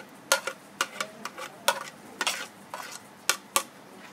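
Chopped onions go into a hot pan for a dhaba-style chicken masala and are stirred, making a run of sharp, rhythmic utensil scrapes and clacks over a light sizzle, close and with no voices.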